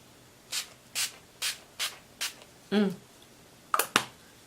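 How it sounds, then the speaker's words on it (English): Wet n Wild Photo Focus Natural Finish setting spray is pumped in five short, even hisses spaced about a second apart, then a brief rubbing sound and two more quick bursts, close and clear. "I'm going to use the Wet n Wild Photo Focus Natural Finish."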